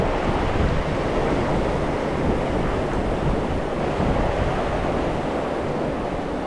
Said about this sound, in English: Wind is kind of picking up again